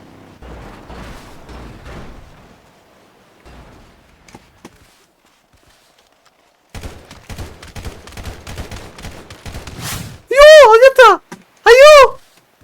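Gunfire sound effects in a comedy scene: a dense burst of sharp, close shots breaks in after a quiet stretch of talk, followed by two loud, warbling sweeps.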